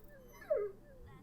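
A dog whimpers once, a short high whine rising and falling in a scene from the Zero Time Dilemma video game, heard faintly over quiet game background with some low talk.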